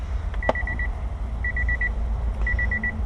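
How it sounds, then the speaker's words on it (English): Short high electronic beeps from a Nissan dashboard repeat in quick groups of about five, sounding three times over a low steady engine-like rumble. "Very annoying beeping"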